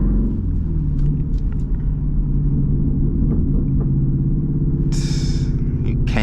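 Straight-piped SRT Jeep exhaust rumbling low and steady throughout from inside the vehicle during a drive, with sharp crackles and pops breaking through near the end.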